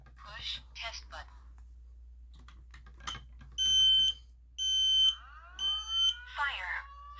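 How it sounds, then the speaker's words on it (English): A smoke alarm sounds three loud, shrill beeps in a repeating pattern after some clicking and handling noises, with a brief electronic chirp at the end. "now we're gonna do this smoke alarm right here."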